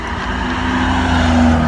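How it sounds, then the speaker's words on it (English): An ice cream truck drives by outside on a warm day, giving a steady, fairly loud engine rumble with a faint tonal hum that builds slightly as it passes, with no talking. "Once the weather is nice, the ice cream truck is out."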